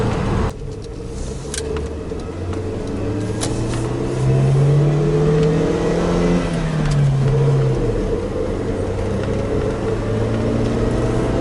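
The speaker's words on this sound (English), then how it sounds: "Accelerates quite good, I mean, for a car of this size." Suzuki Jimny 1.3 heard from inside the cabin as it accelerates, engine drone rising in pitch through a gear, dipping at the shift and climbing again, steady and moderately loud.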